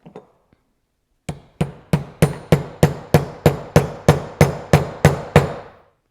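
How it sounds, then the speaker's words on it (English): A metal part is driven down into a Ford tractor hydraulic piston pump with a hand tool, about fourteen sharp, evenly spaced strikes ringing out close and loud with no talking. "I just use this tool to pound it down all the way."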